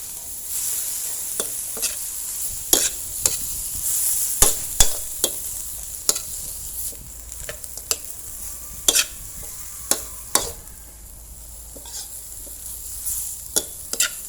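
Sour bamboo shoots and pork belly stir-fried in hot oil, a steady sizzle broken by sharp, irregular scrapes and clanks of a spatula against the pan, close and alone with no talking.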